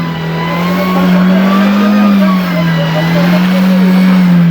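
A Suzuki Jimny engine revs hard and steadily while the vehicle pushes through deep snow in Manali, its loud, close drone rising and dipping slightly, with no talk over it.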